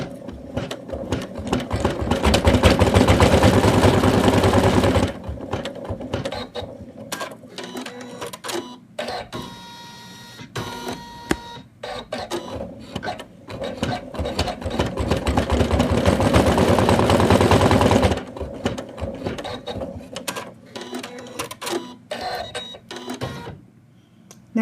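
An embroidery machine stitches an in-the-hoop Santa doll, whirring and clattering in long loud runs broken by quieter stretches of clicking and mechanical ticking, with no one talking over it.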